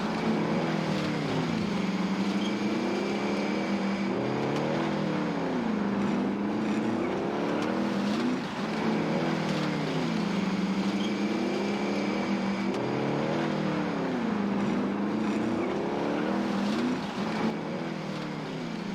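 A car engine in the Warzone video game drones continuously, rising and falling in pitch in repeated swells as the vehicle drives around, steady and mid-loud with no talking.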